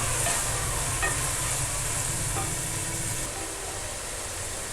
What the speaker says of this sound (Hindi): ये उबले हुए 1 पाव चने थे, जिसको मैंने डाल के अब भूनूंगी।